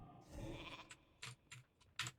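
Sheep bleats from a polymorph spell in a video game, a few short nasal cries in quick succession, close and clear over faint keyboard tapping.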